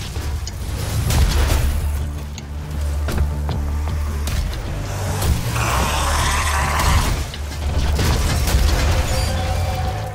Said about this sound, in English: All the explosions.